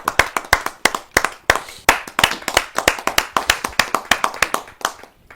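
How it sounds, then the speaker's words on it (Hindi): An audience at a kavi sammelan, a Hindi comedy poetry gathering, welcomes a poet with loud, close, rhythmic clapping. The claps are sharp and evenly spaced, with no speech over them. "आइए जोरदार तालियों से उनका स्वागत।"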